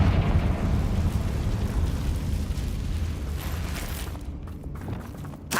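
A Confringo fire curse explosion in the Hogwarts Legacy video game, a loud, continuous fiery rumble and crackle that holds for several seconds before thinning out near the end.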